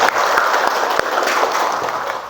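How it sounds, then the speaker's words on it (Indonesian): Classroom audience clapping together at a school gathering, a dense steady patter of many hands held at an even level for a couple of seconds. "Tepuk tangan."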